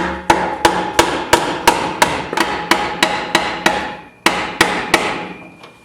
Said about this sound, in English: take a hammer and your screwdriver and just try and get up under there a little bit